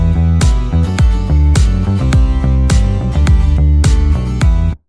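A loud, driving electronic groove: a plucky melodic bass line over a steady kick drum and snare samples, with tight, rhythmic hits repeating across the whole passage and no talking.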